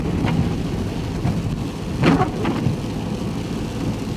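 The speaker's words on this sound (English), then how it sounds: "it's raining harder" Heavy rain pours down outdoors as a dense, steady hiss, with a few brief louder bursts and splashes rising out of the wash.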